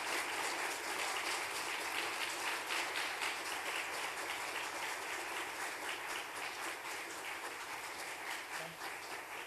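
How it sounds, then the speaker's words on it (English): An audience at the One Pill Can Kill launch event at UAFS keeps up a continuous, dense round of applause that sounds somewhat distant and soft throughout. "Give me a round of applause."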